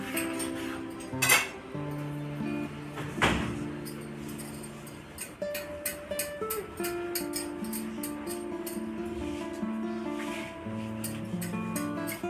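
Knife chopping ingredients for Korean chicken pav bhaji on a board, with a fast run of evenly spaced crisp taps in the latter part, after some louder clinks of utensils and tonal background music.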